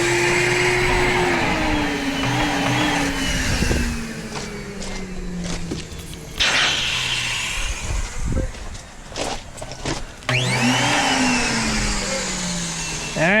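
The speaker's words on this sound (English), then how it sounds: "Alright, I'll go shut that blower off." A blower forces air through the lines of an inground swimming pool during winterizing, a loud steady roar with surging pitch and brief dips, running continuously and close by.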